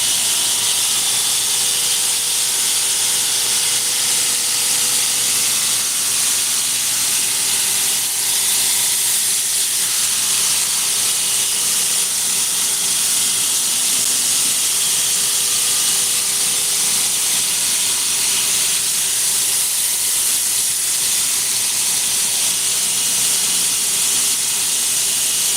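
A bench grinder works a knife blade in a cold workshop, making a continuous loud hissing, rasping grind that holds steady and unbroken the whole time, with no voices.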